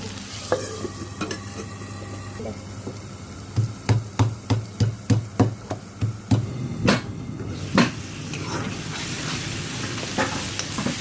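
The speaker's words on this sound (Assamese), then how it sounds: "এতিয়া এই বিলাহী খুন্দি লোৱাখিনি দি দিওঁ। এতিয়া এইখিনি দি অলপ ভাজি থাকিম।" Browned onions and crushed tomatoes frying in a pan, a steady sizzle broken by a rapid run of loud, evenly spaced knocks of a spoon stirring against the pan, then a few scattered stirs.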